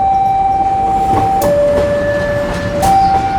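Tawangalun passenger train passing close by on an Indonesian railway near Probolinggo, a steady loud rumble of wheels on rail with a sustained tonal whine and brief sharp bursts, no talk.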